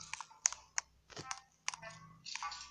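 Keys clack on a small computer keyboard in quick, uneven bursts of crisp clicks with short pauses between, close and fairly quiet.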